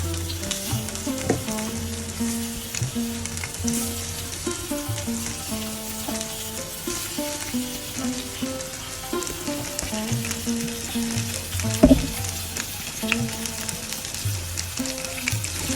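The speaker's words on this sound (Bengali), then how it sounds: "আমি ফ্রাই প্যানে মাছগুলো দিয়ে দিলাম।" Marinated rohu fish pieces, spiced for a potato curry, sizzle and crackle steadily in oil in a frying pan, loud and close, with occasional clinks and stirring knocks and a sharp spike near the end.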